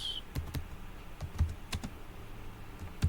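Keystrokes on a computer keyboard as an address is entered into Sage 50 accounting software, sounding as scattered, irregular clicks at close range with no talking over them.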